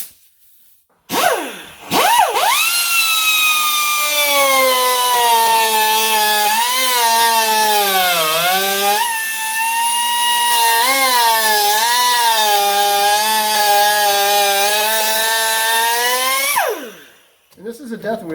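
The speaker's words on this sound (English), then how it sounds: "this is a death wheel, 3-inch wheel of death, otherwise known as a cutoff wheel" A 3-inch cutoff wheel, driven by a leaky air tool, cutting for about fifteen seconds in a loud, steady, high-pitched whine whose pitch wavers as it bites, starting and stopping abruptly.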